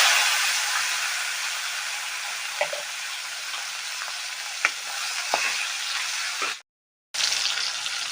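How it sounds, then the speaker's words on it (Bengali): Dried fish (shutki) fries in hot oil with turmeric, giving a dense, steady close sizzle with occasional clicks of stirring and a brief dropout near the end. "তেলটা গরম হয়ে গেছে, শুটকিটা ভাজা করে নেব"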